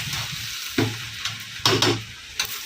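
Chicken fried rice mixed with masala in a hot pan sizzles steadily up close, broken by a few sharp scrapes and clatters of the spatula as it is stirred, without any talking.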